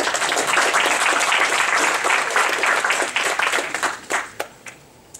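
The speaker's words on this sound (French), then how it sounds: "On peut l'applaudir." Audience applauding a speaker at a video game journalism talk, a full burst of clapping that holds for a few seconds then thins out into a handful of scattered claps and fades.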